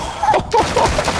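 Shotgun blasts ring out in Call of Duty DMZ, a short cluster of loud, close booms over about a second of game sound.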